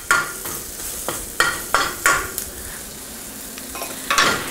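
Peppers tossed into a hot pan with garlic and onions while making BBQ sauce, giving a soft steady sizzle broken by repeated scraping stirs of a utensil at irregular intervals, with no talking.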